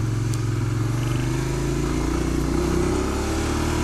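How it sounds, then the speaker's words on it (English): A motorcycle engine running steadily and close while being ridden and shifted through gears, its drone holding loud and rising slightly in pitch as revs build. "RPM's getting up there. I better upshift again."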